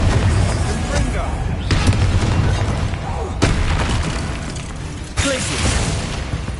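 Confringo fire-blast spells exploding in Hogwarts Legacy, a run of loud booming impacts with sharp cracks at regular intervals over dense battle noise, with voices speaking.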